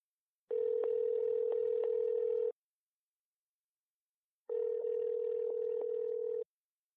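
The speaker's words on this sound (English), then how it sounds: "We have Sarah Wilkinson on the Movie Buzz phone line" Telephone line tone as a call is placed: two long, steady electronic tone bursts, each about two seconds, separated by a two-second gap of silence, clear and close with no voices.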